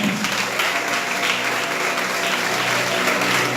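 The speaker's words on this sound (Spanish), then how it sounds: "Y le puede dar un aplauso fuerte al Señor" A church congregation gives a strong round of applause to the Lord, dense continuous clapping at moderate loudness, steady from start to finish with a faint hum beneath.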